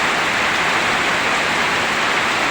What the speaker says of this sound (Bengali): প্রচুর বৃষ্টি হচ্ছে।